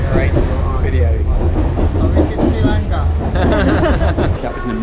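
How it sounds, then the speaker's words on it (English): Loud, steady rumble of a passenger train riding on a railway in Sri Lanka, low drone with rhythmic rattling throughout, while people talk and murmur nearby over the noise. "That was an amazing train journey, really enjoyed it."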